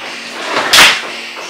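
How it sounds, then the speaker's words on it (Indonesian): A furnished home's wardrobe cabinet door on soft-close hinges swings shut, easing in with a soft rising whoosh and a muted, cushioned closing thud at the end, single and fairly close, with no talk. "jadi si pintu ini dia kalau kita tutup soft close"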